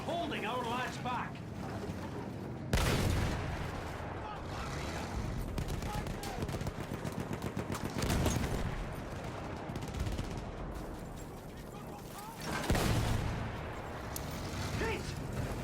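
Machine gun fire in Battlefield 1's World War I campaign, bursts of rapid shots mixed with booming battlefield explosions and shouted voices, with heavy dense noise throughout and a couple of louder blasts.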